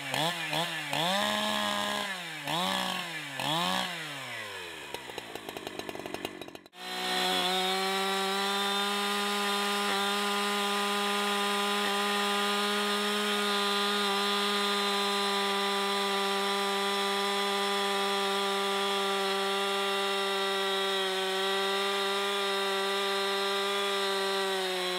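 Husqvarna 372 XP chainsaw revving hard as its chain cuts into the ground, several rising and falling bursts followed by a long, steady, high-pitched grinding whine, loud and close, with no talk.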